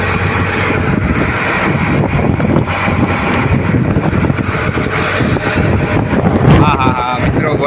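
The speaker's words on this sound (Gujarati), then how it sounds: "વરસાદ બહુ પડે છે." Heavy rain and gusting wind beat against a fishing boat at sea in stormy weather, a loud, dense, continuous wash of noise with a voice speaking over it.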